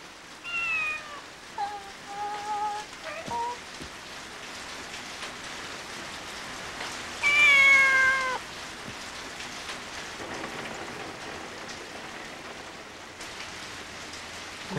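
A stray cat in a film lets out a few plaintive meows, two near the start and a louder one midway, over a soft, steady patter of rain.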